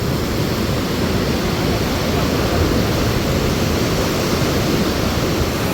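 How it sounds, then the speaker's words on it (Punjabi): Loud, steady roar of water rushing through dam gates at Harike Pattan, a dense unbroken wash of noise that stays constant throughout with no pauses. "ਬਾਕੀ ਆਵਾਜ਼ ਤਾਂ ਤੁਹਾਨੂੰ ਸੁਣੀ ਰਹੀ ਹੋਣੀ ਆ ਪਾਣੀ ਦੀ"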